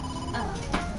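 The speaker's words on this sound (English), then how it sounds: "I am receiving a call from headquarters." A telephone rings in the video game Ai: The Somnium Files with a steady electronic trill under a speaking voice, signalling an incoming call from headquarters.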